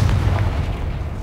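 A Confringo fire spell bursts in Hogwarts Legacy as a single deep, muffled boom that rolls on for about a second.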